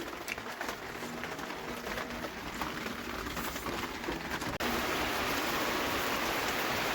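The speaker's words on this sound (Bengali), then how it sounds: "বাইরে এখন হালকা বৃষ্টি পড়ছে" Light rain falls outside as a steady, soft hiss of drops, constant throughout and growing a touch louder near the end, with no voices.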